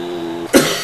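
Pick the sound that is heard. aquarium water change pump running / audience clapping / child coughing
child coughing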